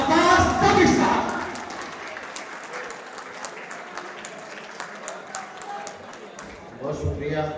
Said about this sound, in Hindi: भरपूर तालियों में इस्तकबाल कीजिएगा जनाब अब्बास ताबिश साहब